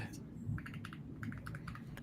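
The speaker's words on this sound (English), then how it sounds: "I'm gonna mute while I'm like typing away here." Quick, light keystrokes tap on a computer keyboard in short irregular bursts, close by and fairly quiet, over a low background murmur.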